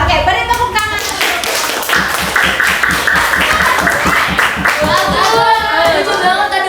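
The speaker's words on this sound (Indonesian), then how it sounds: "beri tepuk tangan" Students in a classroom give a round of hand clapping after a group presentation, loud and close, with voices continuing over the claps.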